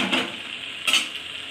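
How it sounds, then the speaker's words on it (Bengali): Paneer tipped into a hot pan for veg biryani gives a short clatter and sizzle, with two brief bursts of scraping and frying against a soft background hiss. "পনির ঢেলে দিলাম, দেখেন পনিরটা দিলাম।"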